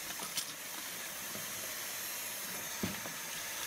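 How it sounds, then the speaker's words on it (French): A can filling machine purges cans with a small jet of CO2 before filling, about 1,600 cans an hour. It gives a steady, fairly faint hiss throughout, broken by a couple of brief knocks. "elles sont purgées avec un petit jet de CO2 et ensuite elles sont remplies."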